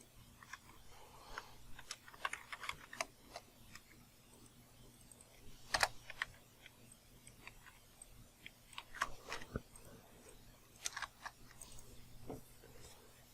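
Computer keyboard typing comes through faintly as scattered, irregular clicks and small clusters of keystrokes over a low steady hum, with no talking.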